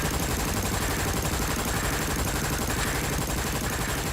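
Gunfire sound effects from the Danganronpa Lapse video game roar as a dense, continuous barrage of rapid shots, loud and unbroken throughout, with no pauses or voices.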